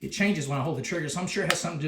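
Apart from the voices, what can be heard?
No distinct noise like a dog, phone or traffic.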